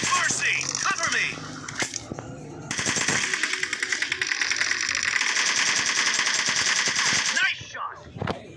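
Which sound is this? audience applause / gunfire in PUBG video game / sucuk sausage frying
gunfire in PUBG video game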